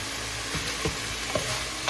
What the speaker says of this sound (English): Once you hear that sizzles right there